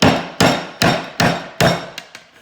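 A nut cracked caveman style by striking it with a rock against another rock, five loud sharp knocks at an even pace followed by two or three fainter taps, close and without talking.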